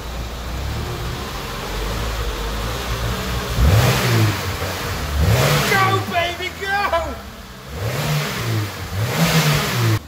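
A car engine, its accelerator pedal held down, revs in repeated rising and falling surges over a rumbling idle. The revving is close and loud, with brief pauses between pushes.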